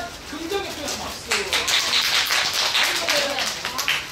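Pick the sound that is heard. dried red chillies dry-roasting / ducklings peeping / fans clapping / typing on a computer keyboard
fans clapping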